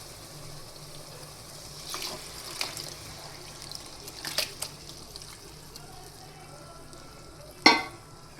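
Leftover rotli soaked in buttermilk is stirred into a sizzling tempering, with a steady frying hiss, several scraping strokes of a spoon against the pan, and a sharp clank near the end.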